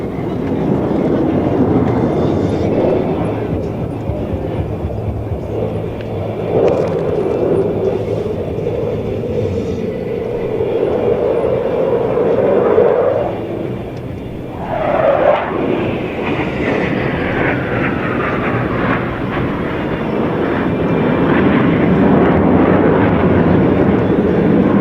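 A military jet flies aerobatic manoeuvres at the NATO Days and Czech Air Force Days air show, a continuous distant rumbling roar with a brief dip and a sharp falling whine midway before the engine noise swells again.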